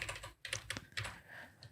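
Keyboard arrow keys are tapped in a quiet room, a few soft, close clicks in quick succession followed by a short pause, with no voices.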